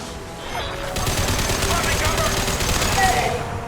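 Sustained automatic gunfire rattles through a Mass Effect 2 battle, loud and dense with little break, while voices talk faintly underneath.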